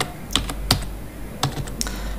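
Keys clack on a computer keyboard as an email address and password are typed into a university admission website login form, with a few scattered, fairly close keystrokes spread over about two seconds and no talking.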